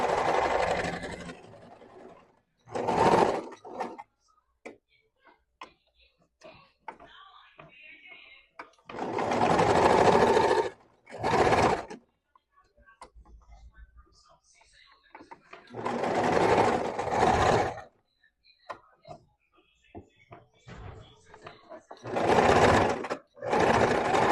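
A sewing machine topstitches a fabric hem in bursts of rapid mechanical whirring, each running for a second or two, separated by quiet gaps filled with soft handling noises, with someone talking between runs.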